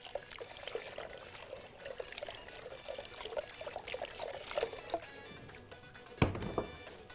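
Water is poured over bulgur in a bowl to wash it: a soft, irregular pouring and trickling, fairly faint and close, with a sharper clatter near the end.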